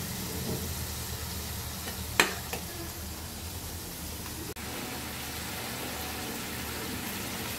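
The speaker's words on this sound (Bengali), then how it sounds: "এই যে তরকারিটা কষাইতে দিয়ে দিলাম" Curry sautéing in a pan with a soft, steady hiss of sizzling oil throughout, a couple of sharp clinks from a utensil partway through, fairly quiet and close, with no talking.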